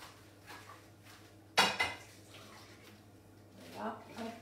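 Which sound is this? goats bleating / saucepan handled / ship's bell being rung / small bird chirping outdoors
saucepan handled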